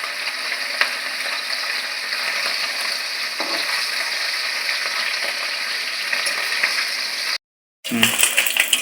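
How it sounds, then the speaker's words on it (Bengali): Small fish frying in hot oil in a pan, with a continuous dense sizzle and occasional crackles, close and steady, briefly cut near the end. "তেলটা গরম হয়ে গেছে, মাছগুলো ভেজে নেব।"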